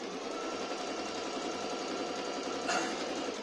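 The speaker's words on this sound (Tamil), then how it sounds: "ஸ்டிச் பண்ணி காட்டுற பாருங்க" A Singer Talent sewing machine runs a straight stitch at 2 mm length, a steady, fast, close mechanical whir and patter that continues without a break.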